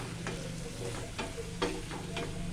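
Food stirred steadily in hot oil in a home kitchen while making homemade bak chang, a close, continuous sizzle broken by a few brief scraping strokes, with no talking.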